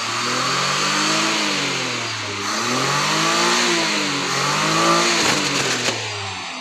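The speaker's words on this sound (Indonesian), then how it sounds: "Lalu ketika dicoba digas sampai pol, fan beltnya putus." A 1984 Daihatsu Charade G10 engine, a small car motor, is revved hard toward full throttle, rising and falling in loud sustained swells with a brief rattle near the end.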